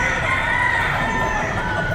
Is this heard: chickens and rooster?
yes